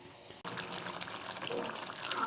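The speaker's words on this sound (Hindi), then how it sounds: "और इसमें और थोड़ा पानी डालूँगी।" Water is poured into a cooking pot for a Konkani fish masala made without coconut, a soft, continuous splashing pour starting after a brief click, fairly quiet and close.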